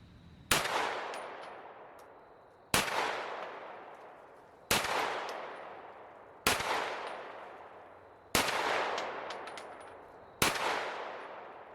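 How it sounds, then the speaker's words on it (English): Six loud, sharp gunshots from a gun fitted with a Crimson Trace Railmaster CMR-201 laser sight, evenly spaced about two seconds apart outdoors, each with a long ringing decay. "let's shoot a little bit more"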